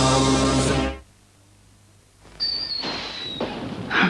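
Fireworks in a 1987 British TV advert burst at close range, with sharp bangs and a whistling rocket after a loud musical passage cuts to near silence.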